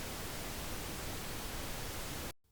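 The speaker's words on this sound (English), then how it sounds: "Let's listen to the pink noise." Steady broadband hiss of pink noise, even and continuous, cutting off abruptly at the end.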